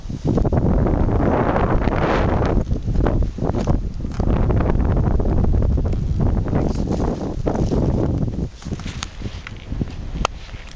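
Gusty coastal wind at a paragliding launch site near Tayport, a loud, close roar buffeting the microphone in surges that ease slightly toward the end, with no talking.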